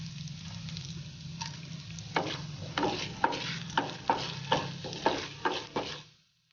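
Cumin and fenugreek seeds, added with urad dal turning golden, fry in a pan with a steady sizzle while a spoon stirs and scrapes in regular repeated strokes.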